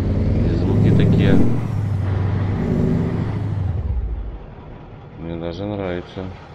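Engine sounds of a Mack Superliner truck mod in American Truck Simulator: a deep diesel rumble rises and falls under a hissing air release, fading away, then a voice speaks over the quieter idle.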